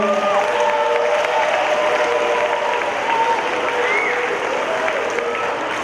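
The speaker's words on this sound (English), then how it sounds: "we need to give a round of applause to our school" Applause from the audience at an elementary school Veterans Day celebration, a sustained, even clapping from a sizable crowd with faint chatter and a few voices underneath, tapering slightly toward the end.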